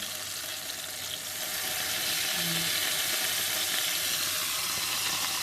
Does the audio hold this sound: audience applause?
no